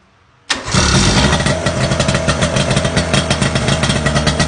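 A Tohatsu V66 fire pump engine cranks and catches abruptly after a quiet moment, then runs loud and close with a steady, throbbing idle.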